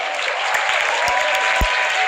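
A dense wash of audience applause and crowd noise rolls on steadily throughout a stand-up kickboxing bout at the AFC 11 Angels Fighting Championship, with a few sharp thumps in the mix.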